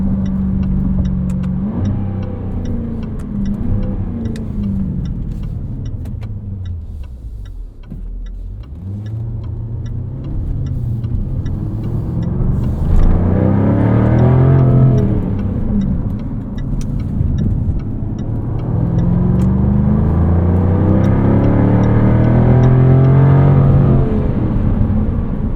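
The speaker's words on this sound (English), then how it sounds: "Love how the exhaust barks on upshifts." A 2024 Jaguar F-Type R75 convertible revs up repeatedly as it accelerates at night, the exhaust barking and climbing then dropping between upshifts, loud and close throughout.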